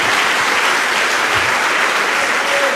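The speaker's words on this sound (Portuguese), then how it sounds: "Dê uma salva de palmas a Jesus" A church congregation bursts into loud, sustained applause for Jesus, a dense wash of clapping from many hands filling the room evenly, with no voices standing out above it.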